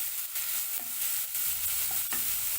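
Tomatoes cooking in a pan are stirred, a steady sizzle beneath a few spoon scrapes and soft clinks spaced irregularly, with no talking.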